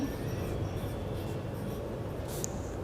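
A pen scratches steadily across paper, a soft continuous rasp close up under a constant low background hum.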